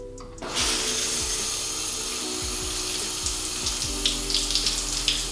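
Running water from a tap splashes steadily onto curly hair to rinse out leave-in conditioner, starting abruptly and continuing as a close, even hiss with faint irregular knocks underneath.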